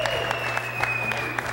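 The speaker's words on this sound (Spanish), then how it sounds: "Padillita, también un aplauso para él." A studio audience in Puebla applauds a guest on a football talk show, a short, steady burst of clapping heard at moderate distance with a faint tone running underneath.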